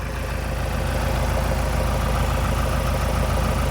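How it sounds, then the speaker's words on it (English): A Ford Transit van engine idles steadily on its own, a loud, even low rumble with a faint knocking texture and no voices. "We are now running the engine."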